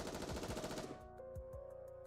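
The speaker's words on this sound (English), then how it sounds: "is promptly assaulted by a hail of gunfire to its core" Rapid bursts of gunfire in the game Goddess of Victory: Nikke, a dense loud volley that breaks off into a few separate heavy shots over a steady electronic hum.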